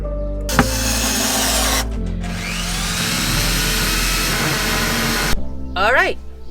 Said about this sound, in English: I'll just put a screw in there and see from there.